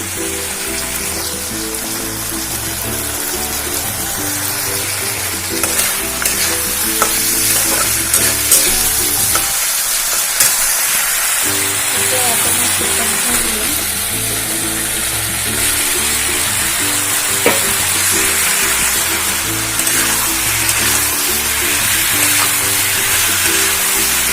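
Chicken pieces for Assamese-style chilli chicken frying in a pan with tomato sauce and salt, a continuous close sizzle with intermittent scraping and stirring, no voices.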